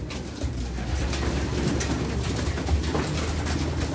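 Pigeons at a loft coo softly and steadily after feeding, a low continuous murmur of several birds close by with no talking.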